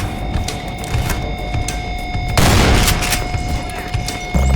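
A double-barrel shotgun in Entropy: Zero 2 fires a heavy blast that booms out with a long noisy tail over steady background tones, followed by a fainter thump near the end; no talking.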